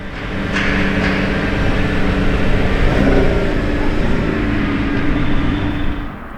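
A Lamborghini engine, a simply specced but aggressive-looking car, rumbles loud and close in a steady deep drone that swells slightly midway before easing off at the end.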